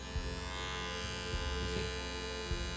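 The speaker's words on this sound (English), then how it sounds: "Here is the cordless clipper. I'm going to start it." A cordless hair clipper for DIY haircuts runs with a steady, faint electric buzz and hum, continuous and close, with a few small handling knocks and no talk.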